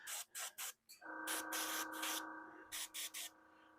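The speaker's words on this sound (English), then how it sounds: "Spraying down some shadow on here" Short hissing bursts of airbrush spray applying Vallejo metallic paint to Warhammer Predator tank models, then a longer steady hiss with a faint tonal hum underneath, followed by a few more quick sprays.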